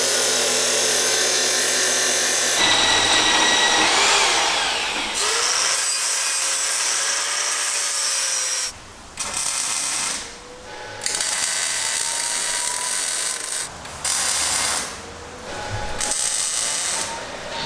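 A power tool cuts off excess metal tubing on a pit truck after welding, giving a steady loud grinding whine that drops out briefly several times as the cut pauses and resumes.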